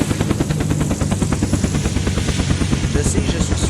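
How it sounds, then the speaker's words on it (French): A helicopter in the survival video game Unturned, a loud, close, steady rotor chop with a fast, even beating rhythm sustained throughout, alone without talk. "Je me suis jamais craché avec un hélicoptère."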